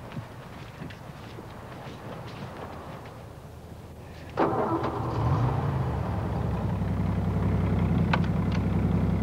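A car engine turns over at a military base setting, a sudden start about midway that settles into a steady, fairly loud running rumble, with faint ambient noise before it.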